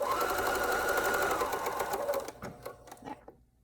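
A sewing machine stitches stretchy arm warmer fabric around a curve in a fast, even mechanical whir of close needle strokes, then slows into a few separate clunks and stops.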